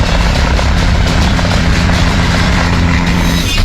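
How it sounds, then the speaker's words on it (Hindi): A helicopter patrols over dense forest and hills around Poonch, its steady rotor and engine roar loud and continuous throughout, with no voices. "पुंछ के 20 किलोमीटर के दायरे में ड्रोन और हेलीकॉप्टर लगातार गश्त कर रहे हैं"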